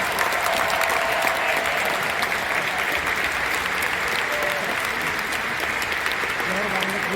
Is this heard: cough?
no